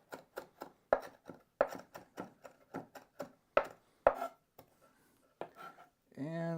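A knife finely minces an ingredient for cowboy caviar on a board, a steady run of crisp, close chops that thin out toward the end before a voice starts speaking.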